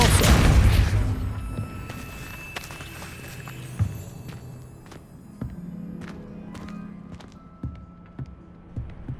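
The Depulso force spell is cast in Hogwarts Legacy with a loud whooshing blast at the start, followed by scattered impacts, thuds and footsteps that fade into quieter game ambience.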